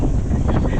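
Strong wind buffets a small fishing boat at sea with big waves, a steady loud roaring rush across the whole short moment.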